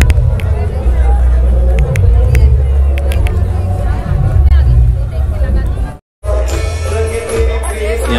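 Dense crowd hubbub fills a packed garba night at Abhivyakti in Indore in 2022: a loud, continuous babble of many voices and movement, with people talking nearby throughout and a brief dropout near the end.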